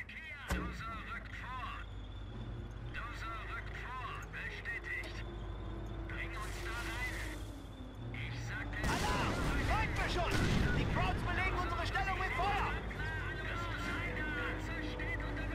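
Mortar and artillery fire rumble through a Company of Heroes battle, a steady low din of distant explosions that thickens into louder bursts partway through, with someone talking over it.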